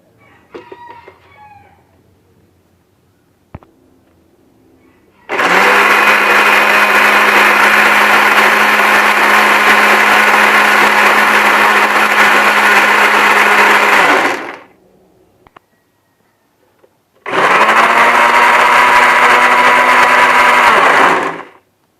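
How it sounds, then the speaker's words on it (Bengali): A kitchen blender grinds 250 grams of peanuts with a little water: two loud, steady whirring bursts, the first about nine seconds and the second about four, separated by a short pause with a few faint clicks. "বাদামগুলো এইরকম করে ঠিক এইভাবে ব্লেন্ডার করে নেব।"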